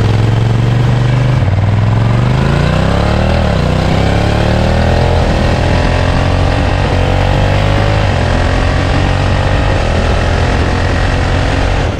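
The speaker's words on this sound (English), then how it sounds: "I love even more what comes out of the NT's exhaust" A 2022 Honda NT1100 with DCT gearbox lets its exhaust note rise and swell through revs, a loud, steady engine drone close by with pitch climbing over several seconds, no talk.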